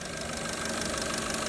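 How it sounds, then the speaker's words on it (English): A car engine knocking abnormally while it idles, a steady close mechanical rumble with a dense, even clatter running throughout and no talk. "The engine is making abnormal knocking noises."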